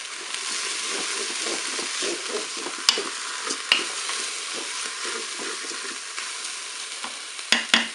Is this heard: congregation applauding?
no